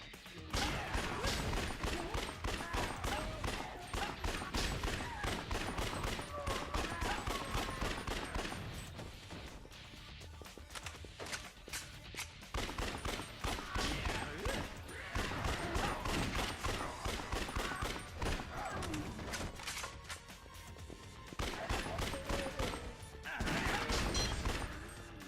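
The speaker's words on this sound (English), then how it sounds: "Did he actually shoot a zombie that was on the ground?" Dense, sustained gunfire from the zombie-shooter video game Yakuza Dead Souls, loud and continuous with rapid bursts and crashing impacts, briefly dipping a couple of times before resuming.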